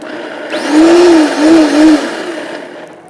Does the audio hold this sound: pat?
no